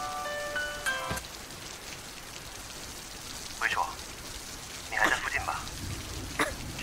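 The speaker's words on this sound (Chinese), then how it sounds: "突然下这么大雨，我怎么这么倒霉啊" Sudden heavy rain pours in a steady, close hiss across a school campus, with a brief tonal sound early on and a few short voices breaking through.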